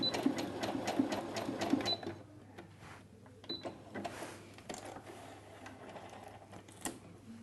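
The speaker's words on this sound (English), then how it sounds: "this can all be done while the machine is actually sewing." A Brother A16 sewing machine runs a satin stitch with a fast, steady mechanical chatter, close and moderately loud, that eases off and speeds up again as stitch settings change mid-run.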